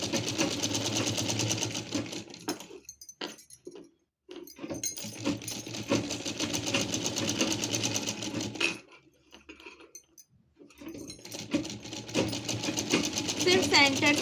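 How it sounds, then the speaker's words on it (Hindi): A sewing machine stitches lace along the centre joint of a chundri print gown panel with rapid, close mechanical chatter, stopping briefly twice, while someone talks over it. "सिर्फ सेंटर से एक सिंगल स्टिचिंग लेनी है, डबल स्टिचिंग की कोई नीड नहीं है यहाँ पर"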